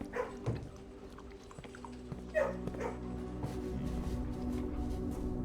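In the video game Blue Prince, a dog in a kennel gives a few faint yips and soft whimpers over low, steady background hum.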